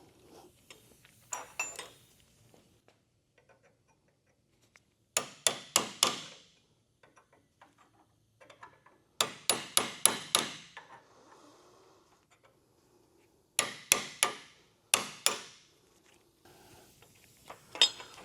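A hammer strikes a pointed chisel to drive bushings out of 2nd-gen Camaro door hinges, sharp metallic blows in quick bursts of four to six hits separated by pauses, close and ringing.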